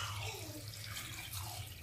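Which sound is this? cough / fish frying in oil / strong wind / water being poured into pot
water being poured into pot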